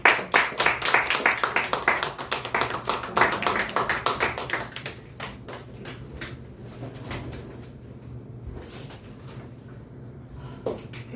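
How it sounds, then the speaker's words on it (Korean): A church congregation claps for a member's birthday during a Sunday service, loud rapid clapping for about five seconds that then dwindles to scattered, fainter claps and quiet room noise. "박수 한번 해주세요."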